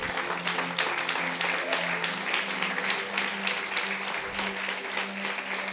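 Loud, sustained applause from a church congregation clapping for Jesus fills the whole stretch, a dense even roar of hands with steady musical tones humming underneath.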